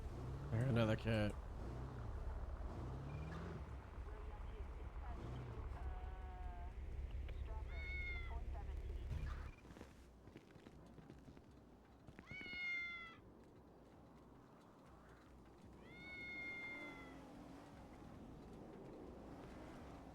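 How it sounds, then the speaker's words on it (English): A cat meows several times in short, rising calls spread across the stretch, fairly clear over a low background hum, with a burst of louder low noise early on. "I heard another cat."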